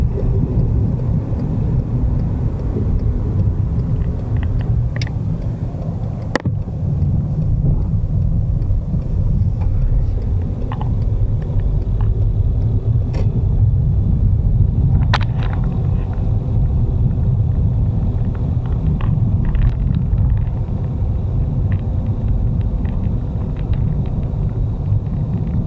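Car interior on a drive into a campsite near Velez Blanco, a steady low rumble of engine and road noise filling the whole stretch, with a few faint clicks and rattles.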